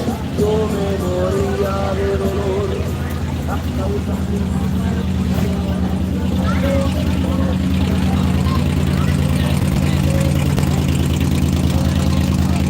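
A cruiser-club car with a rich exhaust idles at a Day of the Dead street show, a steady low rumble filling the whole stretch with crowd noise around it.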